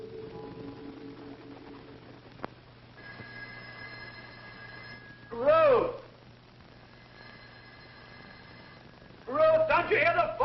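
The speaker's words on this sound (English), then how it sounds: "Don't you hear the phone?" An old telephone bell rings in two separate bursts of jangling, with a quieter room and faint background tones between the rings.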